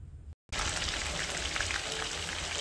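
Several fish frying in a pan, a dense, steady crackling sizzle that fills the whole clip after a brief silent gap at the start, close and fairly loud with no talk.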